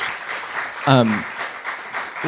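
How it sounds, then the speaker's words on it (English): Audience clapping fills a room at the close of a talk at an event on Oregon cap and trade, a brief steady round of applause with a voice briefly rising over it. "I want one more round of applause for Jana."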